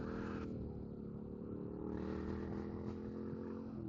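A Yamaha MT-07 motorcycle idles steadily through its exhaust, a low, even rumble with a slight clatter that carries on without a break for the whole stretch.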